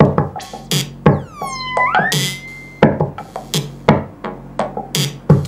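A punchy electronic beat from a Tempest drum machine preset loops along with kicks, snappy hits and a swooping synth tone sliding down and then holding, all in a steady rhythm.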